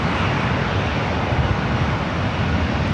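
China Airlines Airbus in carbon fiber livery arriving at LAX, a steady, loud broadband engine roar with deep low rumble held throughout, no voices.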